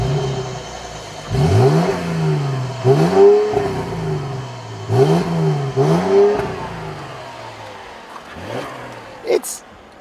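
A 2014 Mercedes-Benz E350 4Matic coupe engine revs up repeatedly in rising pulls, about four climbs in a row with brief dips between, heard from inside the car, followed by a quieter tail.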